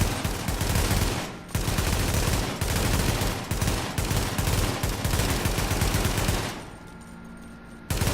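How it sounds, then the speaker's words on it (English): G36 carbine rifle in the video game The Division fires in rapid close bursts, loud rattling volleys separated by brief gaps, ending in a quieter lull near the end. "Let's aim and do burst fire."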